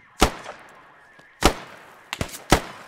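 Sharp gunshots ring out in the Squad military shooter, four loud cracks, with two close together near the end. Each has a brief ringing tail, and the shots are irregularly spaced across a few seconds.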